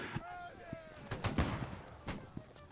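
Artillery fire and volleys of gunfire in the video game Holdfast: Nations at War: several sharp, booming blasts scattered over a few seconds, mixed with someone speaking.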